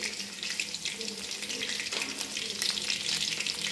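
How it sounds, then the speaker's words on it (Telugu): Mustard seeds and green chillies frying in hot oil for a potato fry give a steady, close crackling sizzle with fine spattering pops throughout. A voice can be heard faintly over the frying. "వేగిపోతుంది చూసారా?"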